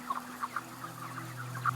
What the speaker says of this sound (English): chickens that are packed into one of these houses